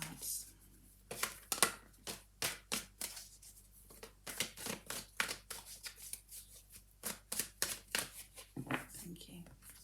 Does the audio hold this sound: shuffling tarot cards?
yes